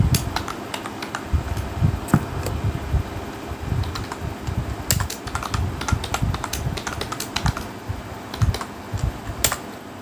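Rapid typing on a computer keyboard while entering points into GeoGebra: dense irregular key clicks and clacks, close and moderately loud, over a steady low fan hum, with no talking.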